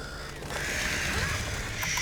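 Startled crows in the video game Back 4 Blood burst into a quick flurry of harsh caws, rising loudly over a low ambient game bed.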